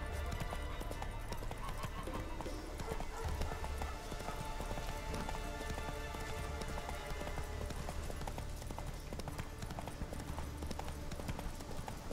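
Horse hooves gallop along a road in The Witcher 3 video game, a continuous fast clip-clop rhythm at steady volume, with faint game ambience underneath and no talk.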